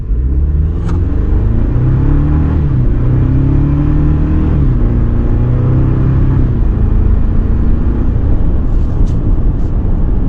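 A 2026 Toyota Tacoma SR5 4x4 with a 2.4-liter turbo four and 8-speed automatic accelerates, its engine drone rising in pitch through gear changes under heavy, constant road and wind rumble from inside the cab.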